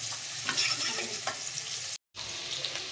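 Chillies, onion and garlic fry in oil with a soft continuous sizzle and a few light stirring scrapes, broken by a brief total silence near the middle; no voices.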